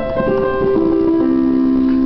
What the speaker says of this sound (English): once you play them like quickly and hold down the sustain pedal, it'll get a sustaining sound altogether, which sounds something like this